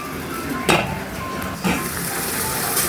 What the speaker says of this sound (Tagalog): Kumulo na po yung ating vinegar.